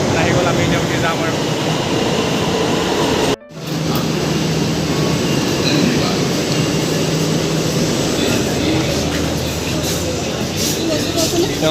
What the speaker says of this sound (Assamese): এতিয়া মেট্ৰ' আহি গ'ল এখন আহি গ'ল